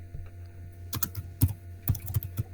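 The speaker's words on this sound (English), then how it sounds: "Please type quickly." Irregular clicks of typing on a computer keyboard while entering git commands, light scattered keystrokes in small clusters heard up close over a faint steady hum, with no speech.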